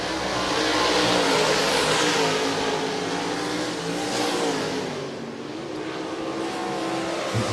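Open-wheel modified race cars roar around the track at Volusia Speedway Park, a loud continuous engine drone swelling and fading as the pack passes, with a crowd-like wash underneath.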